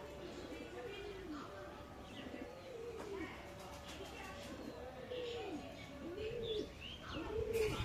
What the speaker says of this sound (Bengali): এটা সেই ব্লাড লাইনের পায়রা।